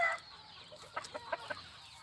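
A giro patabey gamefowl hen clucks nearby in a few short, soft, choppy bursts, fairly quiet against a calm background.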